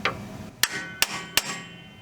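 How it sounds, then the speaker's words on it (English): A metal punch is struck into snow blower sheet metal to make a dimple before drilling: three sharp, evenly spaced metallic taps ring out close by, with no voices. "I'll use a punch to make a dimple to help prevent the drill from wandering around."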